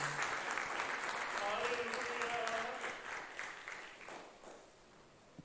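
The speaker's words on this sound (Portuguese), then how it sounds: "Quem entende essa palavra, aplauda o nome do Senhor Jesus." Church congregation applauding at a Portuguese-language service, a broad sustained wash of clapping that gradually thins and fades toward the end, with some voices mixed in.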